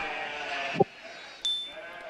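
A cartoon sheep gives a short, close bleat, followed by a second fainter bleat over a soft background hum.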